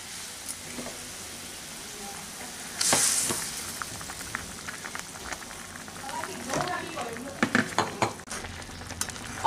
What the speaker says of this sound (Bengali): প্রায় 4 থেকে 5 মিনিট হয়ে গেছে, ঝোলটা কিন্তু আমাদের ফুটছে।